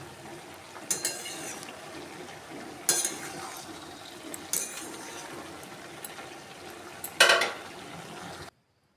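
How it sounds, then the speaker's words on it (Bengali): Mixed vegetables are stirred in a pan for a Bengali vegetarian dish, with a soft sizzle underneath and several sharp scraping clinks of a spoon against the pan, spaced a second or two apart. "ঢাকা তুলে ভালো করে নেড়ে দেবো।"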